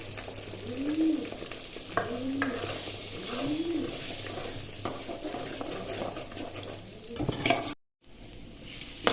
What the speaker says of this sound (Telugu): ఇదిగోండి ఎగ్ ఇలా బాగా వేగిపోయింది